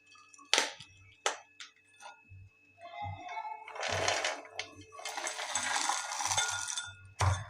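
Pounding of roasted peanuts, garlic cloves, salt and cumin in a stone mortar and pestle: a run of close, uneven thuds and gritty clinks, some strikes sharp and others crunching longer as the mixture breaks down.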